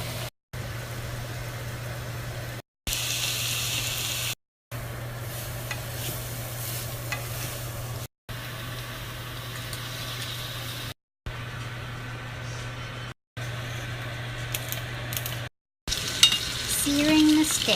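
Onion and garlic sautéing in a pan, a steady close sizzle with a low background hum, broken by several brief cuts, no talking.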